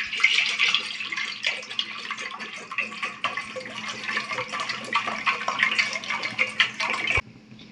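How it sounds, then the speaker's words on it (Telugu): Half a litre of water pours steadily into a cooking pot on the stove, a continuous close splashing stream that stops abruptly near the end. "1/2 లీటర్ వాటర్ నేను దీంట్లో తీసుకుంటున్నాను."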